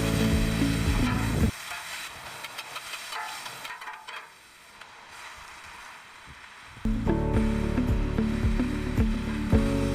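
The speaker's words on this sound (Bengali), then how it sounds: "বিফ দিয়ে বানানো বলগুলো একটি প্যানের মধ্যে নিয়ে সেগুলোকে ভালো মতো রান্না করা হচ্ছে" Beef balls for burgers fry in a pan with a loud, close, continuous sizzle that drops to a much quieter hiss for several seconds in the middle, then surges back to full strength.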